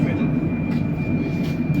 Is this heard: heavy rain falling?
no